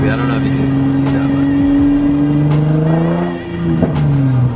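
An Infiniti G35 fitted with a budget, smog-legal aftermarket exhaust revs loudly and close by, its engine note climbing and falling through several throttle blips, with people talking nearby.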